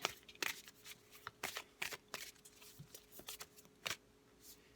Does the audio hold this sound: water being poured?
no